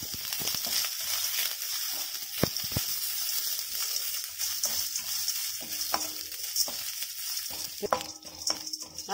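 Lentils and coconut dry-roast in a pan with a faint hiss. Spatula scrapes and clinks come at irregular intervals, close by.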